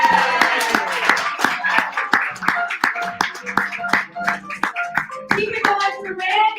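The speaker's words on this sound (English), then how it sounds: "Would you give her a round of applause?" An audience at an indoor stand-up event in Washington, DC claps in a dense, lively burst of nearby handclaps, with cheering voices mixed in.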